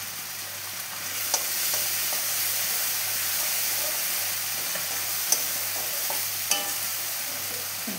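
Turmeric-laced spice paste fries in oil for a chili-oil freshwater fish curry, giving a steady close sizzle and hiss throughout with a few light clinks of a stirring utensil, no talking.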